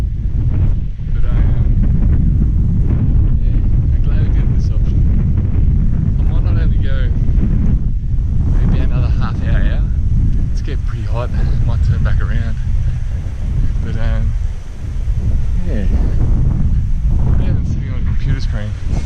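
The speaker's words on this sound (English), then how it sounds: "It's still pretty windy." Strong beach wind roars and buffets the microphone continuously, with a person talking through and under the gusts.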